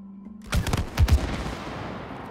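Gunfire in the co-op game It Takes Two: a short burst of a few punchy shots, two clustered pairs of thumps about half a second apart, followed by a fading rumble, moderately loud over a quiet background.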